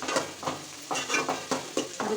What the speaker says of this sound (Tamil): இப்போ வந்து வெங்காயம் ஒரு அரைவாசி நல்லா ஃப்ரை ஆகிடுச்சு